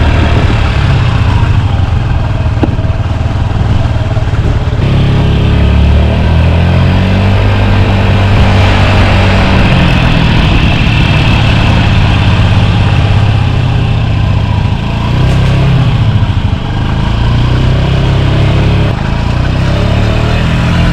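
A Honda Scoopy 49cc scooter engine runs steadily and loud up close, a continuous buzzing drone with slight fluctuations and no talk over it.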